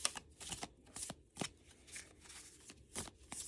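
A deck of tarot cards is shuffled by hand in quick riffling bursts, soft and close, about half a dozen brisk shuffles in a quiet room.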